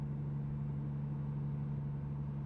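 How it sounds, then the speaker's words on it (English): A truck with a Caterpillar 3406-era diesel drones at about 1500 RPM: a steady, loud low-pitched hum with constant rumble, heard from inside the cab, with no voices. "But I really hate that drone that it has at 1500 RPM."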